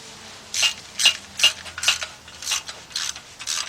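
Ratchet tightening an oil pan bolt on a Chevy Cobalt, about seven close, loud clicking strokes in a fairly even rhythm, no talk.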